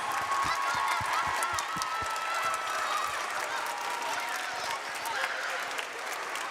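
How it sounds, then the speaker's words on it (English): Applause and cheering from a school spring concert audience for Mr. Stroud, a sustained, loud crowd wash of many hands clapping with scattered shouts and voices throughout. "One more round of applause for Mr. Stroud, please"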